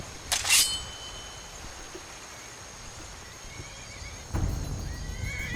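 A horse in a video game whinnies loudly once near the start, then a quiet stretch with faint background noise before a low rumble of movement at the end.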